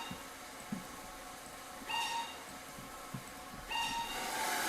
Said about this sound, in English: I like the other whistle sound.